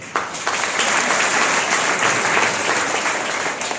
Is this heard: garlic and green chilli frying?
no